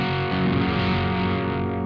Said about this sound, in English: so it's not got a country and western sound like this G.